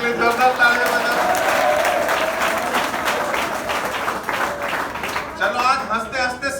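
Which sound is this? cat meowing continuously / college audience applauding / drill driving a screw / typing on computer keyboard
college audience applauding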